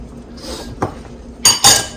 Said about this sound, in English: Just keep stirring here for a minute until it gets back up to that boil.